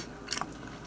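A single quick crunchy bite into a honey butter chocolate chip cookie from a convenience store, slightly crisp outside and soft inside, close and faint over a quiet background.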